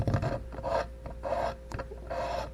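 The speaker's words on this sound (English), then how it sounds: "I'm just running this along here, and I'm deburring it myself." Small hand tool run along the cut metal edges of an Old Town 136 AutoPilot motorized kayak to deburr them, giving three rhythmic rasping strokes up close with short pauses between.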